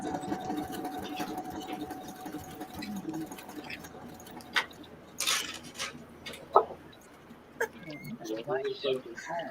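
A sewing machine runs on fabric with a quiet, steady mechanical whirr while people chat nearby, and scattered clicks and handling noises sit over the hum.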